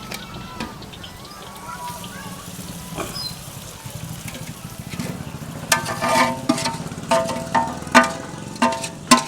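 Sabudana is tipped into hot oil with green chillies and fries with a crackling sizzle, followed by rhythmic stirring scrapes, while a person talks over it.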